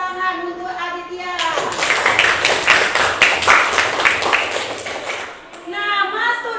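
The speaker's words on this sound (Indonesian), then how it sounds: "tepuk tangan untuk Aditya" Classroom applause for a student: a burst of many children clapping fills the middle of the clip, with speech before and after it.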